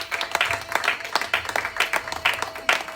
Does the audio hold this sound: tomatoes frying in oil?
no